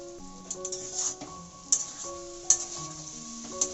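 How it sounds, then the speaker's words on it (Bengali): A shrimp and taro stolon curry being stirred in a pan after sugar is added: a soft sizzle with light clinks of a spoon against the pan, under gentle background music. "একটু অল্প পরিমাণে চিনি দিয়ে একটু নাড়িয়ে দিচ্ছি।"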